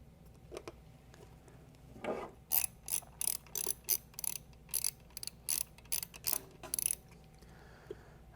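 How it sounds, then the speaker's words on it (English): Screws on a WhisperFlo pool pump motor's cover are tightened with a ratcheting tool, giving a quiet, regular series of about a dozen short clicking bursts at close range. "all that's left is just putting the cover back on and tightening those screws"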